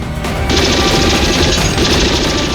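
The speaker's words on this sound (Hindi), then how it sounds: "stop firing, stop firing, stop firing" Loud, dense gunfire rattles without a break, rapid shots blurring together into a continuous roar that fills the whole stretch.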